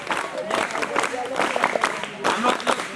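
Applause from the audience at a scout graduation ceremony during a children's development camp: bursts of crowd clapping that rise and fall, mixed with a voice speaking over the room.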